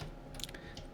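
A short burst of quick keystrokes on a computer keyboard, close and soft, tapping in a code expression.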